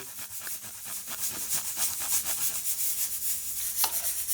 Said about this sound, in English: Grate in the ginger. Grate in the garlic as well.